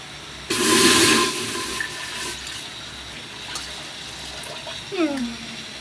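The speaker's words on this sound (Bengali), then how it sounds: "আমি চাল যেহেতু 1 কেজি নিয়েছিলাম, এজন্য জল হচ্ছে 2 কেজি দিব।" Water pours from a container onto washed pulao rice in a cooking pot, a loud gushing splash lasting under a second, followed by quieter handling noises and someone talking.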